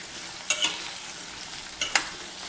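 Okra with turmeric and salt fries in a pan under a steady hiss, broken by two pairs of sharp scraping stirs of a spoon against the pan, close and fairly loud, with no voices.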